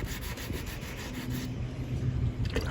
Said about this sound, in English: I am wet sanding this, and it's probably going to take another coat of gel coat